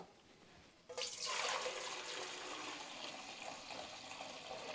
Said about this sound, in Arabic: هلا بنصفي المي كلها